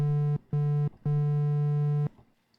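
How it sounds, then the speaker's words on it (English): Triangle wave oscillator on the Retro Synth soft synth, played as three sustained notes of a pure, mellow tone with short gaps between them, the last held longest, alone and clear. "And the triangle wave sounds like this."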